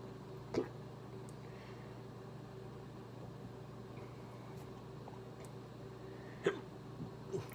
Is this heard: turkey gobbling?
no